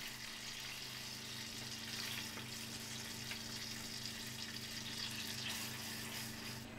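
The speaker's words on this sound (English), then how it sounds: "we're going to take our 125 grams of butter and we're going to put them in the pan to melt" Butter and golden syrup melting together in a pan, giving a steady, soft sizzling hiss with faint bubbling over a constant low hum, continuous and even throughout with no talking.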